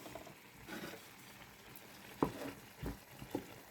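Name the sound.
stirring coconut milk into shrimp curry in a pan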